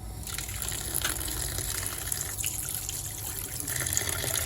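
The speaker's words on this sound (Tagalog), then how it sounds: "hugasan naman natin ang ating hinimay na mais" Shelled white and purple corn kernels being rinsed under running water, a continuous close gushing and splashing with a steady hiss and no voices.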